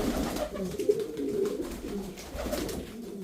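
Male Adana pigeon cooing in steady, repeated low throaty rolls, close and moderately loud against a murmur of background noise.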